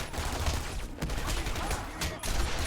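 Machine gun fire in Batman: Arkham Asylum, a dense, continuous rattle of rapid shots that stays loud and unbroken across the short stretch, with no pauses between bursts.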